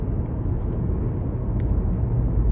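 Steady low engine rumble and road noise from inside a car being driven to and from work, continuous and close with no talking.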